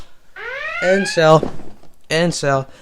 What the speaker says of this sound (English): I'm gonna play the siren noise